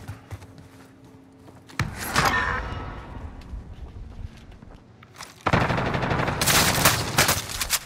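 Gunfire in a multiplayer shooter video game: a sharp blast, then a ringing decaying tail, then a loud burst of rapid automatic fire near the end, over a faint background.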